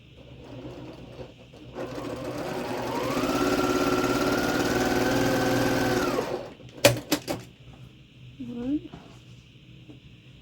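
A sewing machine stitches quilt fabric in one sustained motor run, revving up to a steady whirring hum and winding down, followed by a few sharp clicks and brief mechanical sounds, close and loud.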